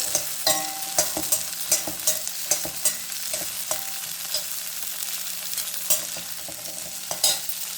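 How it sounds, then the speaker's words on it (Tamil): Garlic and ginger fry in a pan, with a soft steady sizzle broken by regular scraping and tapping strokes of a spatula stirring close by. "பூண்டு, இஞ்சி இதெல்லாம் போட்டு வறுத்துக்கலாங்க."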